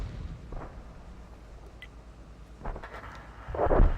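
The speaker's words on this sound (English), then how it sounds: "Oh, that tank went down. Ammo-racked by the RT-3485" Tank ammo rack exploding in a tank video game, a sudden loud blast swelling at the end after scattered distant thuds and booms of battle.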